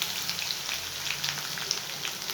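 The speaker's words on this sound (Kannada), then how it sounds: "ಬೆಳ್ಳುಳ್ಳಿ ಚೆನ್ನಾಗಿ ಎಣ್ಣೆ ಫ್ರೈ ಆಗಬೇಕು" Crushed garlic frying in oil, a steady close sizzle with scattered tiny pops and crackles spread evenly throughout.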